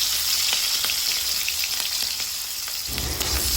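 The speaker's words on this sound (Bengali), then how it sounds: "ভাজা ভাজা হয়ে আসলে তার মধ্যে দিয়ে দিব" Cumin, black cumin, onion and chili fry in hot oil for a vegetable dish with potatoes and lentils, a steady loud sizzle with scattered crackles and a louder burst of frying near the end.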